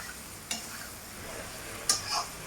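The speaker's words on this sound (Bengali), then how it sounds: "এবার আমি টমেটোটাকে ভালো করে ভেজে নেব" Chopped tomatoes mixed with turmeric and salt fry in a pan for a Bengali prawn and mixed vegetable dish, giving a low sizzle broken by a few sharp spatula scrapes and stirring knocks, close up with no talking.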